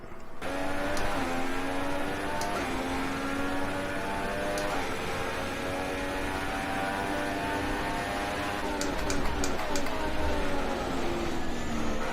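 Sauber Formula 1 car engine in the F1 2016 racing game, Bahrain qualifying run: a steady, loud high-pitched engine whine rising through the gears in repeated upshift steps, continuous for the whole stretch, with no talk.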